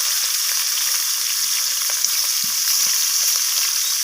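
Bhetki fish bones fry in hot oil with a steady, bright, close sizzle, punctuated by a few soft stirring clicks.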